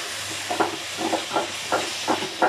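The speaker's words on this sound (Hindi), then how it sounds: "इसको हम इसमें ऐड कर देंगे। और फ्रेंड, ध्यान रहे ये ज़्यादा बारीक नहीं पीसना है, इसको थोड़ा सा जरजरा रखना है और इसे अच्छे से चलाएंगे।" Tomato puree sizzles in a pan with guar beans as it is stirred, a steady hiss broken by soft rhythmic scraping strokes of the spoon, close and moderately loud.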